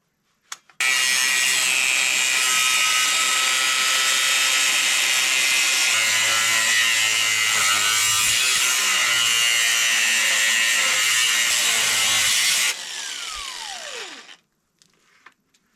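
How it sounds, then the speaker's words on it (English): A battery angle grinder with its guard on cuts through thin Chinese steel, a loud continuous high-pitched whine and grinding screech that runs for about twelve seconds, then winds down as the disc spins to a stop. "Okay, we've got the grinder, the big battery on there."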